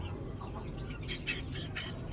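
Black hen ready to brood on eggs gives soft, brief clucks over a steady low background hum, faint and close.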